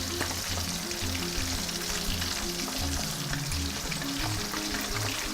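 Fish sizzles steadily in a hot pan for turmeric fish, a dense, even crackle of oil with small pops, close and constant with no voices.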